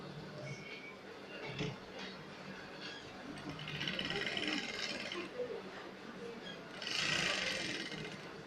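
A sewing machine stitches a princess dart seam in short bursts, the motor whirring louder in two longer runs, while a person talks over it.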